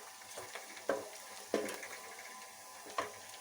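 Onions sizzling softly in a pan for tori sabzi, a faint steady frying hiss punctuated by three or four sharp spoon clicks against the pan.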